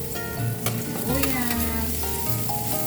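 Garlic frying in a pan for a cabbage and chayote sauté gives a steady, close sizzle with a faint tonal hum in the background.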